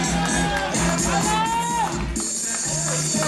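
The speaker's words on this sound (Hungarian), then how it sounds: "megkérném a csapattagokat egy nagy sikítással, ovációval üdvözöljék a csapatvezetőket" Villagers at a 2017 Hungarian village festival shout, whoop and cheer loudly for the cooking team leaders, a continuous crowd roar with high yells and voices throughout.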